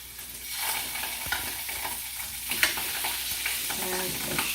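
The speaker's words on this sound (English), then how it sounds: "We'll put these down on the frying pan" Italian sausages sizzle and crackle in a hot frying pan, a continuous hiss with occasional pops and a few utensil clicks.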